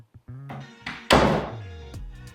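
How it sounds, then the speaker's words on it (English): A fire door swings shut with a single firm thud near the middle, followed by a short settling rattle, heard close up with no talking. "This is how a fire door should close."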